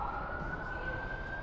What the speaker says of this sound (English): sirens going by right now